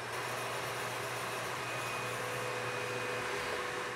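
A stand mixer whips meringue at high speed while hot sugar syrup is poured in, making a steady, dense motor whir with a constant hum that runs unbroken throughout.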